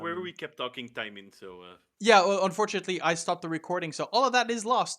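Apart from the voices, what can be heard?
No everyday noise stands out behind the speech.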